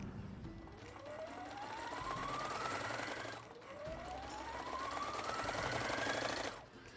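A sewing machine stitches all the way around the edge of a fabric bunny toy in two long runs, its motor whine rising in pitch as it speeds up, then cutting off briefly between runs, moderately close.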